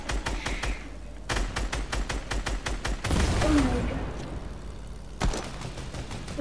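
Fortnite gunfire in a creative-mode battle: quick bursts of automatic shots, then a loud explosive blast with a falling tone and a final short burst, all loud and close.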